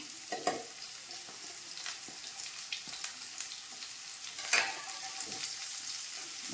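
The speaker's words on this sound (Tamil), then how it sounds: "இப்போ இதில் வந்து பெரிய வெங்காயத்தை போடுறேன் இதையும் நல்லா வதக்கலாம்" Large onions sauté in a pan for a chicken dish, giving a soft, continuous sizzle marked by repeated scrapes and taps of a spatula stirring. It is fairly quiet and close, with no talking.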